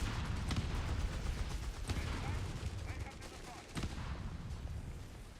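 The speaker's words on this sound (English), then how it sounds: "Oh, Base MG is doing some good work" Base machine gun firing in Company of Heroes 3, a steady low rumble of automatic fire with a few sharper bursts, heard at moderate distance beneath game effects.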